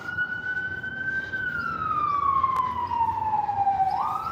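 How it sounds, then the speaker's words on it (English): An emergency vehicle siren wails along a New York City street near Central Park, one long steady tone sliding slowly downward before jumping back up, loud and continuous over busy street noise. "Another siren."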